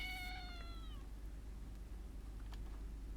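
A cat in a dark, rain-dampened alley lets out a single drawn-out meow that fades after about a second, leaving a low steady hum of ambience.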